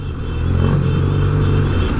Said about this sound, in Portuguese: Tá uma moto grande, é 400 cilindrada Suzuki.